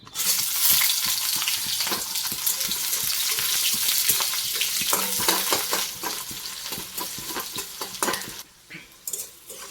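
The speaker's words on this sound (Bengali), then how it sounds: "এখানে ডালে ফোড়ং দেবো এই যে জিরে দিতে হবে জিরেটা একটু পরে দিচ্ছি রসুন পেঁয়াজ আর শুকনো লঙ্কা" Garlic, onion and dried red chillies sizzle loudly in hot oil in a kadai for a dal tempering, a steady close frying hiss with scraping stirs and light metal clinks, fading near the end.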